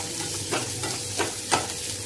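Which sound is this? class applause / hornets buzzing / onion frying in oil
onion frying in oil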